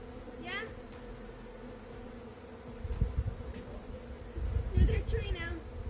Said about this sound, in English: Do I have more and more bees coming to me?